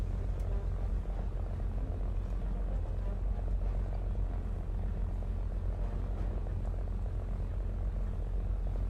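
Propeller plane engine in the War Thunder video game, a steady continuous drone lasting the whole stretch with no talk over it.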